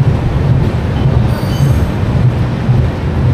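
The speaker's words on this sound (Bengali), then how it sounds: "আমাদের ট্রেন এবার ছেড়ে দিল কটক" Howrah–Puri Superfast Express (12837) pulling out of Cuttack station in Odisha, heard as a steady loud rumble of rail wagons with wheel squeal and faint clatter, continuous and close, no talking.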